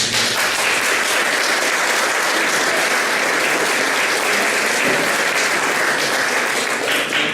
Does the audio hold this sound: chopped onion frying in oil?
no